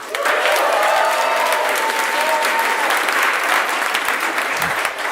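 Stand-up comedy crowd cheers and applauds loudly and continuously in response to the comedian, a dense wash of clapping with scattered whoops throughout.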